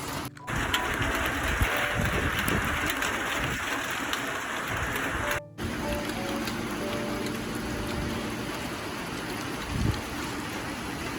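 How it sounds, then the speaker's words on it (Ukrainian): Power generators run outside in Kyiv after rain, a steady, loud mechanical drone and hum that fills the whole stretch with little variation, with one brief dropout partway through. "У нас пройшов дощ, але генератори не дають спокою."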